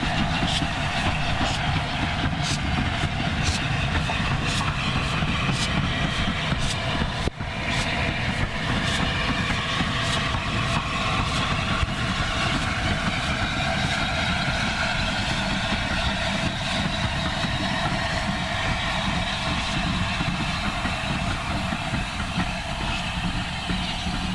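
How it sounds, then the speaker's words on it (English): Union of South Africa steam locomotive hauling a northbound train through pouring rain, a steady loud rumble of the moving train with rain hiss throughout, no talk. "the Union of South Africa was seen out on the first train northbound to Rottenstall, here in the pouring rain."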